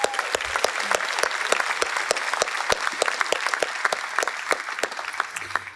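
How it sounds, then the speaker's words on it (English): Audience applause at the annual state opioid response summit, a steady round of clapping with sharp individual claps standing out over the crowd's wash, held at an even level throughout. "Let's give Gordon a round of applause"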